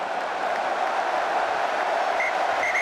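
A rugby crowd in Marseille at France versus Namibia, a dense, steady roar of cheering and clapping from a large stadium audience, continuous with no single voice standing out.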